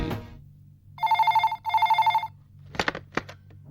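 A telephone bell rings in two rapid trilling bursts, loud and close over a low hum, followed by a few soft knocks and movement sounds.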